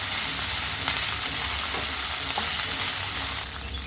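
Eggplant and drumstick pieces fry in hot oil while being stirred in a pan for a tamarind kuzhambu, giving a steady, close sizzle throughout with faint scraping underneath.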